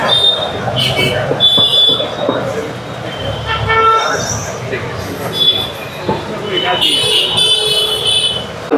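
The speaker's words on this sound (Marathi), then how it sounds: "बस आता ही अंधेरी ट्रेन गेली." An Andheri-bound local train pulls out of Nalasopara station, with wheel squeals and a rumbling departure mixed into busy platform noise while people talk nearby.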